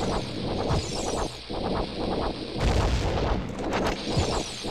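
A bomb blows up a rock in a Zelda video game inside Jabu-Jabu's Belly, giving a single loud, crunching blast partway through over looping game music.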